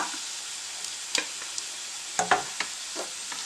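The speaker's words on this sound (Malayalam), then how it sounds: "ചെറിയ പീസസൊക്കെ പെട്ടെന്ന് അങ്ങ് ഫ്രൈ ആയിട്ടുണ്ട്" Small chicken pieces fry in hot oil, a soft steady sizzle with a few sharp crackles and pops scattered through it, close and without talk.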